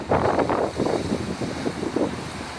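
Strong wind buffets a white stork nesting site, a steady broadband roar with gusting swells that rumble against the microphone for the whole stretch, loud and close with no voices.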